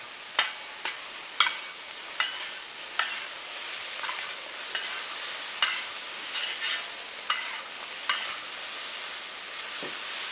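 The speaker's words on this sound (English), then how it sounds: "We're just going to stir this together." Breakfast burrito filling sizzles in a frying pan while a utensil scrapes and stirs it in about a dozen regular strokes, moderately loud and close, with no voices.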